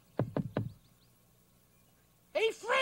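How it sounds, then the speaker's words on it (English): Three sharp knocks land on a door in quick succession, followed by a quiet pause before a voice begins speaking. "I'll just knock on the door and see if she's in."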